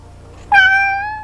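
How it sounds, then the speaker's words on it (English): A single cat meow rises sharply and holds, clear and close, then trails off over a faint low background hum. "Are both the cats making an appearance in this episode?"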